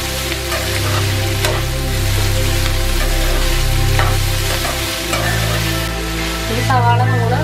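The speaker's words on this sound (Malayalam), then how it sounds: "ഇത് അരയ്ക്കാനുള്ളതാണെങ്കിൽ സവാള ഇത്ര ഏറെ ഉള്ളതുകൊണ്ട് ആദ്യം സവാള മാത്രമായിട്ട് തന്നെ ഒന്ന് വഴറ്റിയെടുക്കുക" Sliced onions sauté in oil in a pan for butter chicken masala, a steady close sizzle with occasional stirring scrapes beneath a low background hum and a brief tonal sound near the end.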